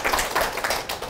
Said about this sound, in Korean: 박수 치시나요? 치시려면 제대로.